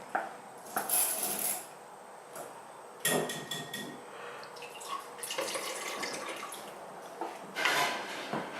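Cold water runs over freshly churned butter being rinsed by hand at a living history farm's dairy, with splashing, trickling and occasional clinks of utensils against a bowl, fairly faint and uneven.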